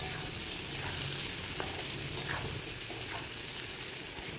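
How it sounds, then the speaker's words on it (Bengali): Elephant foot yam pieces frying in oil with salt and turmeric, a steady, quiet hiss of sizzling with occasional faint stirring clicks. "এখন ওলগুলোকে খুব ভালো করে ভেজে নেব।"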